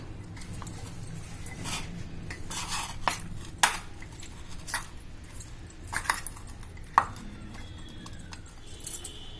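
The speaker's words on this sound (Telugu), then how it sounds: "ఇప్పుడు చూడండి, సద్దులన్నీ ఇలా కలుపుకోవాలి." Saddulu rice dishes, including a puttnala preparation, are mixed together in vessels for Bathukamma. A spoon clinks and scrapes against metal at an uneven pace with sharp ticks, while soft background noise runs underneath.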